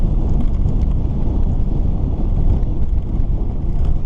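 Strong wind buffeting the microphone while cycling slowly through a farm area in town, a dense, steady low roar filling the whole stretch without letup, with no voices.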